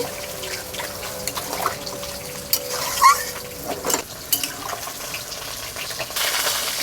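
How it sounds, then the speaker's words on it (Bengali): Water is poured into a simmering pot of catla fish curry, a brief splashing trickle with faint clinks of utensils close by. "কষিয়ে নিয়েছি জল দিয়ে দিচ্ছি"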